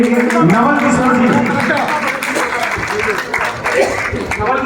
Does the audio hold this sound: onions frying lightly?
no